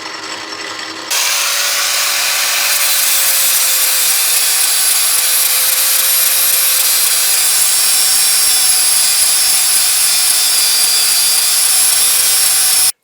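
A Myford lathe runs steadily while its chuck is cleaned up, giving a loud, constant high-pitched whine and scraping hiss after a brief start.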